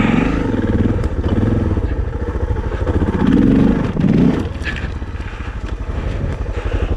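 A Suzuki DR650 motorcycle engine revs and pulls hard through a wheelie and log hop, with rising throttle bursts around the middle and rough mechanical clatter throughout, close and loud.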